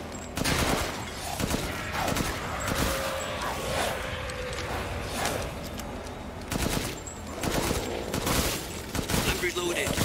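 Rapid bursts of gunfire and explosions from the video game Resident Evil Village fill the scene, with loud overlapping volleys that repeat at irregular intervals alongside game sounds and a player speaking.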